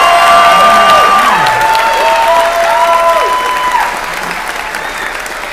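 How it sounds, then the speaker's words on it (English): At an elementary school holiday concert, the audience applauds third graders after their first orchestra performance. The clapping is loud and sustained, with a few cheers and whistle-like tones and faint children's voices, and it tapers slightly near the end. "Have one more round of applause for our third graders' first performances."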